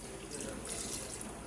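Water blended with onion and nuts pours into a pan of chicken and potato curry, giving a short steady splash and trickle, close and fairly quiet.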